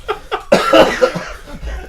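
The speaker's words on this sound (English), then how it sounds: "There's a fourth person coughing, too." A person coughs in a dusty setting, a few short harsh bursts followed by a louder, rougher fit, with laughter-like breathy sounds and light chatter trailing underneath.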